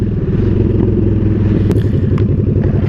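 A motorcycle is opened up on the road, its engine loud and close with a rapid, rough, pulsing beat as it accelerates, and a couple of faint clicks and rattles sit on top.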